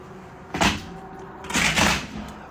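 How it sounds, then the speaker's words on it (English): Old spline being pulled out of a screen door frame, two bursts of scraping and rubbery tearing with a thump, close by, separated by a short pause, no talking. "This is me extracting the spline where I have to stand on the door"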